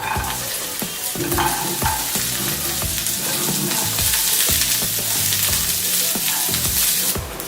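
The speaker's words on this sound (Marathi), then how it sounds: "तेल टाकून घेतलंय आपण त्याच्यातील भेंडी आधी परतून घेऊ" Okra sautéing in hot oil in a pan, a loud, steady close sizzle with regular stirring scrapes and spatula knocks throughout, no speech.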